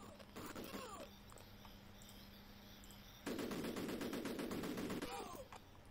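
Rapid automatic gunfire in the Cannon Fodder video game, a fairly quiet burst of rattling shots that starts partway through over faint game sound.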